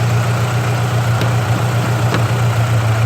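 A car engine with a freshly replaced head gasket, now mixing oil and coolant, idles roughly up close as a steady, loud, low drone with faint ticks over it.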